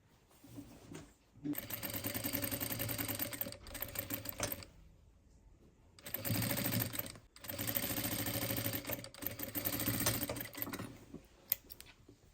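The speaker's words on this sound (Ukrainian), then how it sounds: "Пришиваємо вже другу частинку наших джинсів." A sewing machine stitches an insert into the waistband of a pair of jeans, running in two long bursts of rapid, steady stitching with short pauses between them, close and alone.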